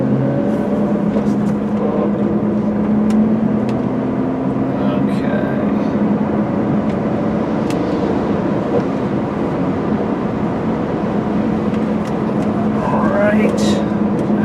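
A 2004 VW Jetta GLI with a V6 engine and six-speed gearbox drives on a road, its engine droning loud and steady inside the cabin with a constant low hum throughout.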